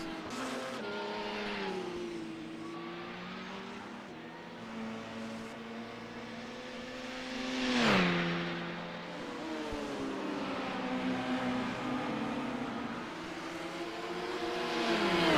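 A race car runs wide off the circuit onto gravel, its engine note rising and falling with a surge midway, and a rough crunching wash of stones under the tyres, steady and fairly close.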